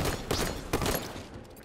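Magnum pistol shots in Halo 5, a couple of quick sharp reports over dense, steady game noise, close and moderately loud.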